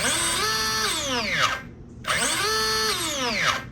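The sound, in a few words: RC car electric motor spinning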